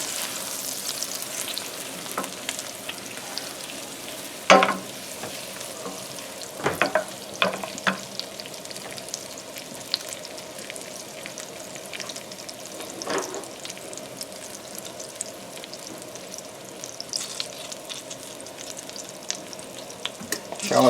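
Shallots and garlic fry in a hot pan, a continuous close sizzle broken by several sharp stirring scrapes and clatters, with no talk over it.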